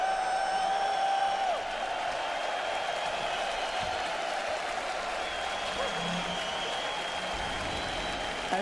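A large crowd at a Dota 2 viewing event cheers and applauds for the team Heroic, a dense, steady roar of voices and clapping that holds for the whole stretch without letup.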